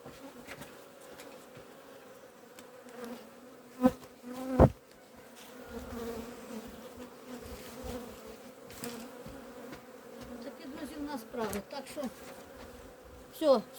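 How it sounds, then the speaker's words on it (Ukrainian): Honeybees buzz steadily around an open apiary hive during a spring inspection in May, a close, continuous hum with a few louder passes near the microphone and faint background handling noise. "Бджоли вже пішли догори, спокійненько собі."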